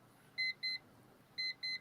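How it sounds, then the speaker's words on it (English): Alarm clock bleeping at an evening campfire gathering: two pairs of short, clear electronic beeps with a gap between pairs, fairly faint against a quiet outdoor background. "A bleeping clock."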